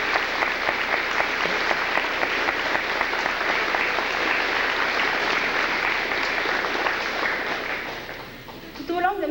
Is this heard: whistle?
no